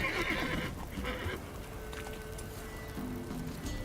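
Roach, the horse in The Witcher 3 video game, neighs in a clear whinnying call over a steady background of game ambience and soft hoof-like thumps, with no talking.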